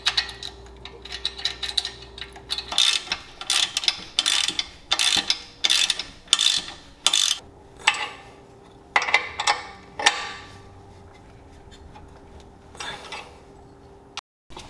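A ratchet threads a washer and nut onto a suspension bolt of a Jeep Wrangler during a 3.5-inch lift, with about a dozen quick bursts of close, crisp clicking followed by quieter scattered clicks and taps.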